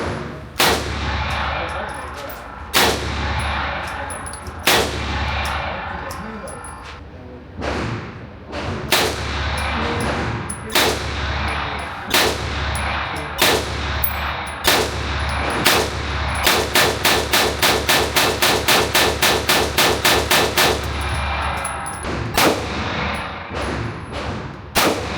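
Bear Creek Arsenal BC9 9mm carbine fired at a shooting range, loud close sharp reports, first spaced single shots, then a fast rapid string of rounds near the end.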